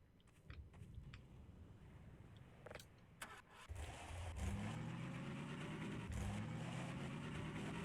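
Car engine in the video game Half-Life starting up: a few faint clicks and thumps, then the engine catches and settles into a steady, moderately loud running hum.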